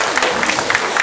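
Parents applaud a school children's choir concert in Uckange, a dense burst of crowd clapping that fills the hall.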